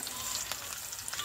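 Onion and garlic hit a hot pan outdoors in the mountains, giving a brief, even sizzle of frying at moderate level.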